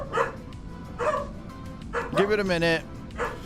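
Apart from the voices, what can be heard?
dogs barking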